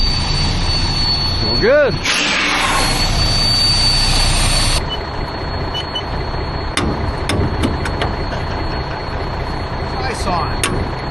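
A loaded semi truck's diesel engine rumbles steadily up close, with a brief rising whine and hissing early on, a voice speaking over it, and scattered knocks later.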